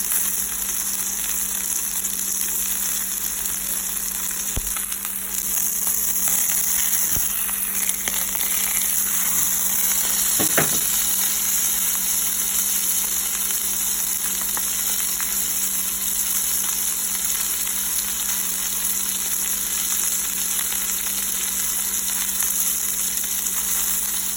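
A ribeye steak frying in a hot pan on a stovetop, a steady dense sizzle and crackle running throughout with a few brief pops and clicks, close and continuous with no talking.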